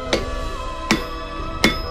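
A hammer strikes a knife blade at a forge three times, evenly spaced about three quarters of a second apart, each blow sharp, ringing and close against a quiet background.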